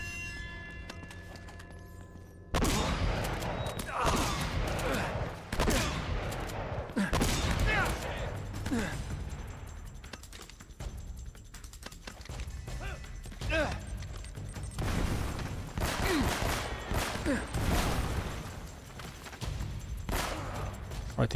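Shotgun blasts in Uncharted: Drake's Fortune Remastered, a series of loud, sharp booms spaced irregularly over a busy game soundscape, with someone talking at times.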